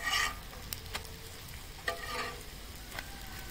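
Soft, steady sizzle of parotta frying in oil on a pan, with occasional clinks and scraping from turning it over, close and quiet with no talk.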